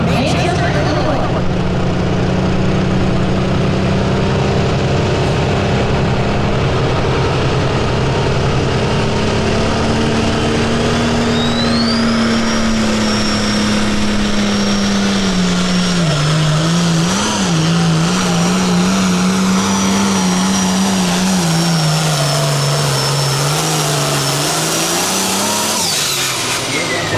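Pulling tractor campaigned by a team from Manchester, Illinois, at a Pro Pulling League event in Nashville, Illinois, its engine roaring loud and close for the full stretch, pitch climbing and dipping as it revs, with an announcer talking over it.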